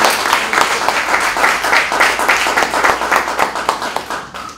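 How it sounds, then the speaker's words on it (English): A round of audience applause at a presentation on endowment funds, dense sustained clapping for several seconds that thins out toward the end, with no talking over it. "I would give those funds just one more round of applause"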